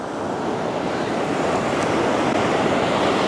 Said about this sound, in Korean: 자, 큰 웨이브 옵니다.